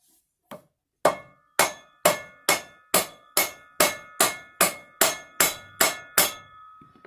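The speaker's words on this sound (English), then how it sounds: "we'll get the rubber mallet out again. Give it a beating." A rubber mallet strikes the driveshaft flange of a Bedford bus in about thirteen sharp, evenly spaced blows, each with a short ringing metallic decay, loud and close with no talk.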